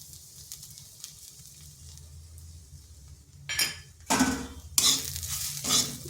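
Bitter gourd with three spoons of gram flour being stirred in a pan over low heat: a quiet low sizzle at first, then several loud scraping, clinking strokes of a spoon against the pan in quick bursts.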